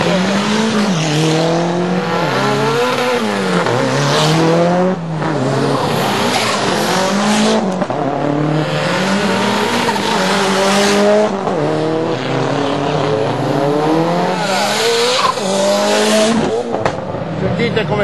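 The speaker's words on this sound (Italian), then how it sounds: "Sentite come scalpitano questi motori turbo" Turbocharged race car engines at a Formula Crono race in Padova scream loudly and close, with rising and falling pitch sweeps as cars accelerate and shift, tyres squealing in places.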